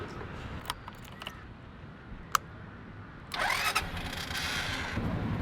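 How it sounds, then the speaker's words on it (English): A motorbike engine starts up outdoors beside a city park in Bangkok. A few faint clicks come first, then a sudden start settles into a quiet, steady running hum that lasts until the end. "Helmet is on, gonna mount the motorbike now"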